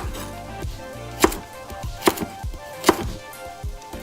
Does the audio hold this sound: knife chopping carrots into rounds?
yes